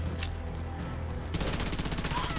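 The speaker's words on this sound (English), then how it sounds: "Just picking up our weapons and shooting them." Fast automatic gunfire in The Division 2 starts partway through as a loud, steady rattle. It follows a moment of low background noise.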